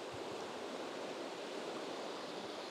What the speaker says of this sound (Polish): tak dokładnie powinna wyglądać dzika, górska rzeka